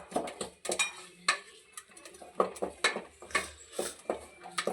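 A spoon scrapes and knocks against a cooking pot while chicken curry is stirred, producing irregular, close clinks and scrapes at a moderate level with no voices.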